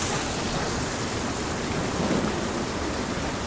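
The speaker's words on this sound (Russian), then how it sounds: "Знаменитый Омский водопад." Omsk's famous waterfall on a cold early morning, a dense unbroken roar of falling water, loud and steady throughout with no voices.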